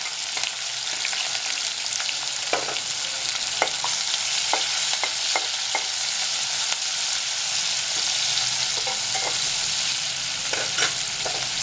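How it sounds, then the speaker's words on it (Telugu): Onions and green chillies sizzle and crackle steadily in a hot pan, with occasional sharp stirring scrapes over the constant frying hiss. "ఇప్పుడు దీంట్లోనే ఉల్లిపాయలు, పచ్చిమిరపకాయలు వేసుకున్నాము."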